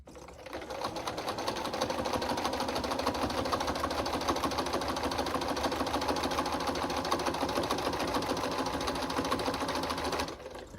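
A sewing machine running steadily for about ten seconds, a close, continuous rapid mechanical whir of stitching that stops at the end.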